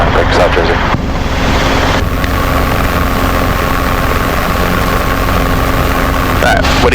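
A Robinson R22 helicopter in flight during a go-around, its rotor and engine roar loud and steady from inside the cabin, with brief radio or cockpit chatter at the start and end.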